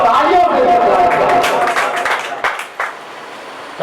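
A mushaira audience claps for an Urdu poet's recitation: a burst of crowd applause mixed with chatter and a voice speaking over it, thinning out toward the end.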